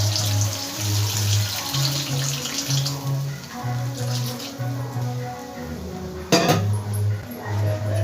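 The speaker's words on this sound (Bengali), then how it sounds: "এই পর্যায়ে আমি মশলা ধোয়া জলটা দিয়ে দেবো, আরও একটু জল আমি দিয়ে দেবো এর মধ্যে।" Water and spice-rinse water pour into a pan of potato and pointed gourd curry, a steady splashing flow broken by brief pauses, with a sharp clink of utensil on the pan near the end.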